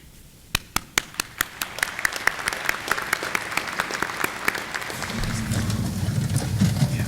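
Audience applause at an evening college honors convocation, starting as a few distinct near claps that quickly swell into steady, dense clapping from a seated crowd, with a low rumble joining toward the end.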